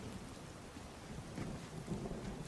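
In Skyrim with the True Storms mod, a harsh thunderstorm rolls as a low, rumbling roar beneath a steady hiss of heavy rain, faint and continuous, with swells of thunder partway through.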